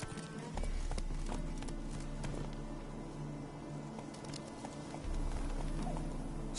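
Hooves of a horse galloping in The Witcher 3 thud in a quick steady rhythm, fairly close, with a low rumble and faint bird calls behind.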